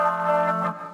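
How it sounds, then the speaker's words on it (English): A sustained, lo-fi processed synth chord in an Ableton track with stock effects automated in: steady harmonic tones, slightly distorted and chorused, fading near the end. "So we're gonna automate in the lo-fi effect here"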